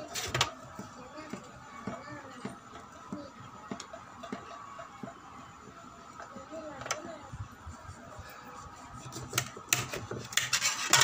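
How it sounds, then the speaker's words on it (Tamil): A knife slicing lemons on a cutting board, giving soft repeated rubbing and scraping cuts with light clinks, close and fairly quiet throughout. "இப்போ நான் லெமன் எடுத்து கட் பண்ணிக்கிறேன்"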